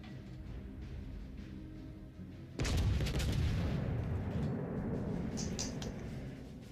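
Rapid video game gunfire and explosions burst in loudly partway through, then keep going as a dense, continuous barrage over low background noise.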